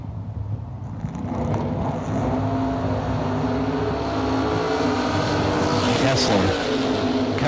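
Drag racing dragsters at a Mickey Thompson tire round, with loud engine roar filling the whole clip, sustained and steady, rising slightly near the end, with a faint announcer-like voice mixed in.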